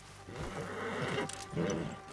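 Horse neighing in the video game Red Dead Redemption 2, a drawn-out whinny heard close and fairly loud with a breathy, fluttering quality, rising again near the end.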